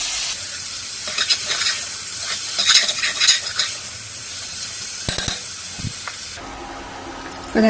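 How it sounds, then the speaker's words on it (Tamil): Tomatoes cooked with asafoetida and salt are stirred and mashed in a hot frying pan, giving a steady sizzle with scraping strokes and a few sharp clatters of the spoon against the pan. "தக்காளி மசிட்டோம்"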